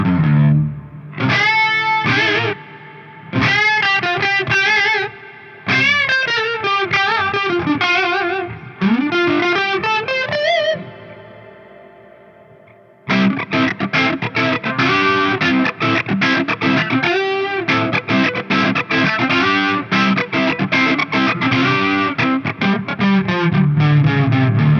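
An electric guitar played through a Neunaber Expanse chorus and reverb pedal rings out in distorted, shimmering chords and picked phrases, first in separate bursts with pauses, then a long dense strummed passage with lush modulated reverb tails.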